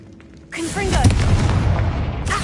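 A Confringo blast spell in the video game Hogwarts Legacy erupts as a sudden loud boom, with rising magical whooshes swirling above a deep rumbling explosion that sustains and decays, followed by a second burst near the end.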